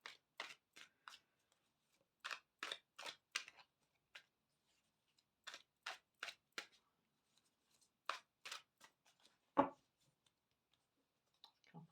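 Quick bursts of tarot cards being riffled and shuffled, several short flurries separated by pauses, close and fairly quiet, with one sharper tap near the end.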